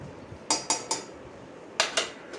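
A metal spoon stirs onion and chilli masala paste in a pan over a low-to-medium flame, giving a series of sharp clinks and scrapes in two bursts, close and distinct with no talk.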